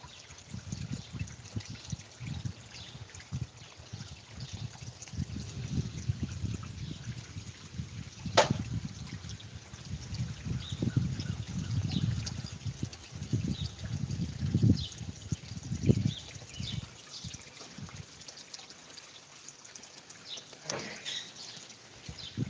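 Water trickles and splashes from a koi pond waterfall, uneven burbling pulses near the mic with a few sharp clicks and a quieter stretch near the end.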